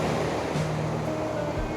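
Sea waves at Teluk Cempedak Beach in Kuantan roll and break in a continuous, fairly close surf wash, with a faint tonal hum underneath and no speech.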